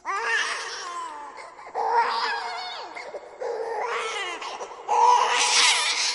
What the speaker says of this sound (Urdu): ان کو ایک چھوٹے بچے کے رونے کی آواز آنے لگی۔